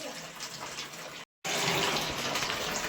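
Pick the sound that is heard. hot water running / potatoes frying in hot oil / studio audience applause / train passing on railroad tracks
hot water running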